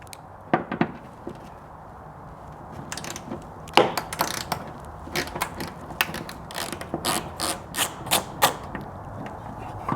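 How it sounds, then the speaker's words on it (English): A 10mm socket on a ratchet loosens bolts on a Jeep Wrangler JK, giving quiet bursts of clicking pawl ratcheting in short irregular runs, close by, with no talking. "take your 10mm socket and we're going to go ahead and remove the two 10mm bolts here first"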